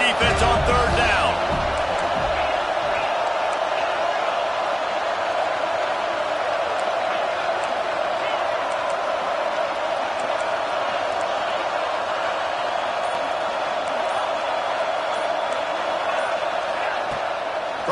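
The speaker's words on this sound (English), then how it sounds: "Decibels rising as the crowd gets behind this defense on third down." A stadium crowd at a Tennessee football game roars steadily behind the defense on third down, a dense sustained wall of cheering noise lasting throughout, with a brief louder burst at the start.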